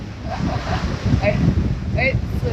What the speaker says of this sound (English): We've got like 20 knots, 18 to 20 knots of true wind, right?